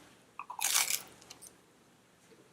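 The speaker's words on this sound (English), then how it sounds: "Makes a great, crispy, crunchy crust." Someone bites into the crispy, crunchy crust of a homemade cast iron pizza made with a Greek yogurt dough, giving one sharp close crunch followed by a few softer chewing crackles.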